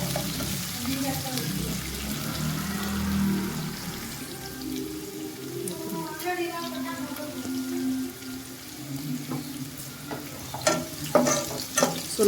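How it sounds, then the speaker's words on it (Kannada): Vegetables with a pinch of salt frying in a pan for palak paneer rice, a close steady sizzle with stirring scrapes, brief pouring, a few louder clinks near the end and a faint voice in places. "ಸ್ವಲ್ಪ ಉಪ್ಪು ಹಾಕ್ಕೊಂಡು ನೀಟಾಗಿ ಈ ರೀತಿ ಫ್ರೈ ಮಾಡ್ಕೋಬೇಕು."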